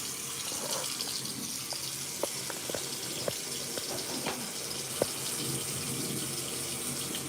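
Warm tap water runs steadily into a bathroom sink for face washing, a continuous close hiss with a few small splashes and knocks, and no talk.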